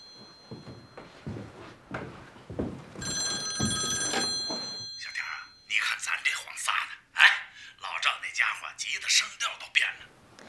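A telephone rings in an indoor domestic scene from a Chinese war drama series, its bright repeating ring running for about two seconds amid room noise and voices, followed by further talking.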